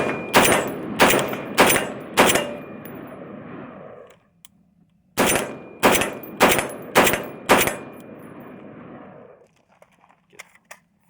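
Scar 16 short barrel rifle firing two strings of about five sharp, loud shots each, evenly spaced, with rolling echo after each volley and a quiet pause between them.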